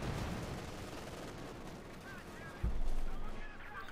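Distant gunfire and artillery rumble through a Company of Heroes 2 battle, with a mortar and machine gun in the mix, a steady low din, then a heavier blast near the end, faint talk running underneath.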